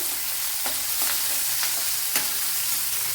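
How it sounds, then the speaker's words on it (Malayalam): Garlic, chilies and tomato frying in a pan for egg stew, a steady close sizzle with a few soft stirring scrapes, heard alone without talk. "ഇവിടെ ഇപ്പോൾ വെളുത്തുള്ളിയും മുളകും എല്ലാം വഴണ്ട് വന്നിട്ടുണ്ട്. അതിലേക്ക് ഒരു തക്കാളി ഇട്ട് കൊടുക്കുക."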